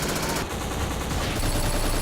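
Dense, loud automatic gunfire from the first-person shooter game Black, a rapid unbroken burst of shots lasting about two seconds.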